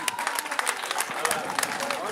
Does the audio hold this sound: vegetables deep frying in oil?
no